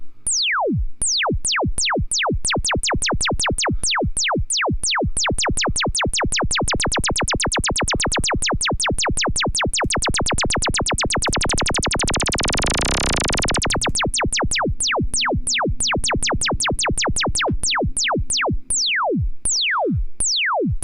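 Rapid falling synthetic sine-wave sweeps repeat steadily, speeding into a dense blur midway, then slowing again, all electronic tones with no voices.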